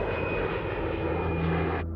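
A jet aircraft engine roars in a steady, loud, continuous drone with a thin high whine, then cuts off sharply at the end.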